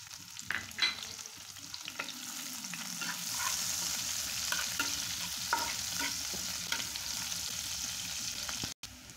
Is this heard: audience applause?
no